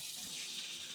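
Running water from a tap rinses saltfish being washed in a kitchen, a brief steady hiss of flowing water with no talking.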